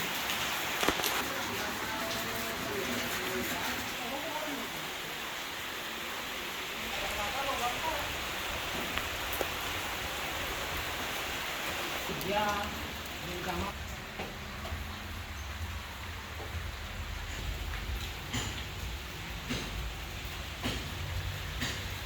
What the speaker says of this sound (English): So yeah, it's pouring down rain.